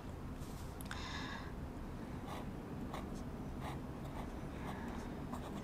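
Fountain pen nib scratching across paper with dry-leaning ink, a soft steady scritching run with short pen strokes over a constant background hiss, close up and fairly quiet.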